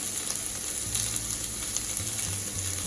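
Onions with green chili and curry leaves sauté in a pan for a pumpkin curry, giving a continuous close hiss of frying with faint scraping from stirring and no talk.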